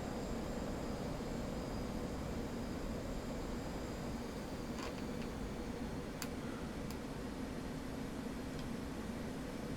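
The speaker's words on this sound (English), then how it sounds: "we'll just hit afterburner and do a vertical pass with all of our load on" Jet in a DCS flight simulator game lighting the afterburner for a vertical pass with full load: a constant, loud broadband roar throughout, with a few faint ticks on top.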